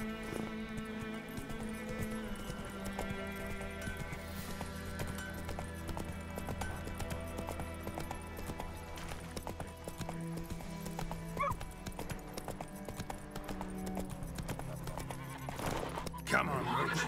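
Hooves of the horse Roach clip-clop steadily at a run in The Witcher 3, with a neigh and game music layered throughout and a voice speaking over the action.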